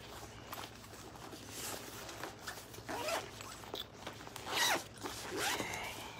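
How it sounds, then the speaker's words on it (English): A Thirty-One bag's front-pocket zipper rasps open and shut in several short and longer pulls, near and fairly soft, with small handling noises between them. "So that's the zip pocket in the front."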